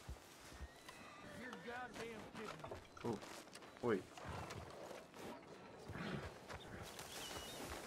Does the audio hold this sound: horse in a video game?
yes